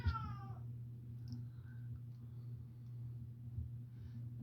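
A cat gives one short meow right at the start, then a low steady hum carries on with a few faint clicks and no talking.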